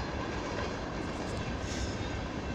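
A BNSF grain train hauled by CSX locomotives rumbles steadily past on snowy ground, a dense continuous roar of wheels and cars, fairly distant and faint.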